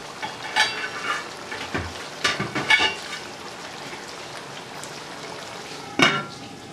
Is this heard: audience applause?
no